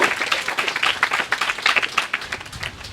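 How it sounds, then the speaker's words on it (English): Audience applause at a celebration of life gathering, a steady dense patter of many hands clapping throughout, fairly loud and close, with no voices over it. "Nice round of applause for John."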